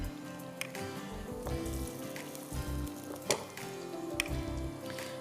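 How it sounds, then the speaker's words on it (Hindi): Ingredients for Parsi palav fry in a pan with a soft steady sizzle and occasional pops and clinks, heard close without talk. "यहाँ ये जल्दी से हम इसको फ्राई कर देंगे"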